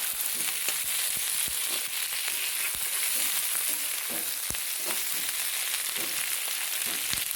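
Slit green chillies and tomato frying in a pan, a steady loud sizzle with crackling pops and occasional stirring scrapes, close and continuous with no voices.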